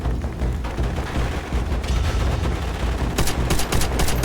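Sustained, dense gunfire from a World War II shooter game, Call of Duty: World at War, roaring continuously at full loudness, with sharper rapid bursts of machine gun fire crackling near the end.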